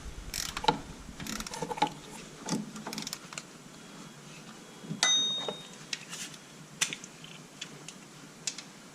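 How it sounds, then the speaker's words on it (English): Bolts being tightened with a ratchet, heard as quiet, intermittent clicking and metallic taps in bursts and fairly close, with no talking. "we're gonna lock up these bolts. We're gonna tighten them, both of them"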